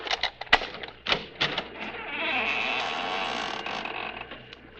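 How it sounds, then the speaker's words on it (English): A front door swings open on a squeaking hinge as a radio drama sound effect, with a few knocks and clicks first, then a drawn-out creak of about three seconds, close and moderately loud. "Maybe you heard the hinge squeak a little."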